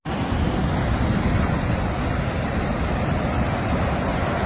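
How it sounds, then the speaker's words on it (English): Heavy sea waves surging over a coastal main road at Port Royal, Jamaica, after Hurricane Beryl: a loud, unbroken roar of surf mixed with wind buffeting the microphone, with no voices. "The sea has burst the bank."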